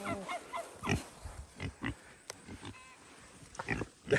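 American Guinea hog on a heritage pasture farm grunting and snorting close by, a run of short irregular grunts and snuffles with brief pauses, no speech over them.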